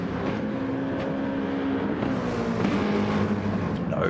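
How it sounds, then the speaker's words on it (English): A Mitsubishi Lancer GT3 race car in a racing video game, its engine a steady droning roar held at high revs throughout, close and continuous with no talk. "Mockin in that Mitsubishi Lancer, chasing him down."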